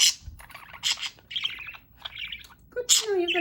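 Pet budgie chirping indoors, a quick series of close, bright tweets and short squawks with brief pauses, a voice faintly behind.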